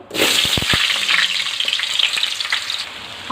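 Cut potatoes sizzle loudly in hot oil over a medium flame for an Indian curry, a dense steady crackle with a few sharp clacks of a utensil stirring early on; no voices.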